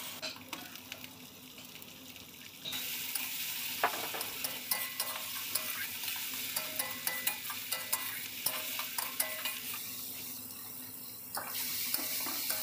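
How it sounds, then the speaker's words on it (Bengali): Chopped onion, tomato and green chilli fry in mustard oil in a kadai, a quiet steady sizzle broken by scrapes and clinks of stirring, with running-water sounds in the background. "একটা কড়াইতে কিছুটা পরিমাণ সরিষার তেল গরম করে তাতে পেঁয়াজ কুচি, টমেটো কুচি আর কাঁচা লঙ্কা কুচি দিয়ে হালকা করে আমি ভেজে নেব"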